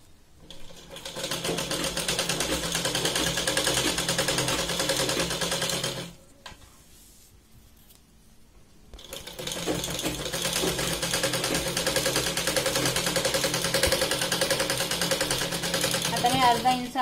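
A sewing machine stitches a seam on a big-size Katori blouse, running steadily and loudly for about six seconds, pausing briefly, then resuming for a long continuous run, with someone speaking over it.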